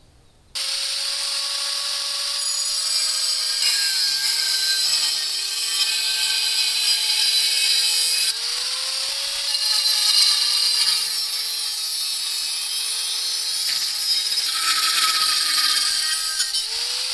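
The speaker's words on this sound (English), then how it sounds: "that's as good as it's gonna get from the angle grinder" An angle grinder grinds the steel blade of a small cleaver knife in a long, loud, continuous whine whose pitch wavers as pressure shifts, heard alone and close with no voices.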